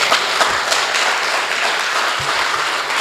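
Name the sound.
audience clapping at community meeting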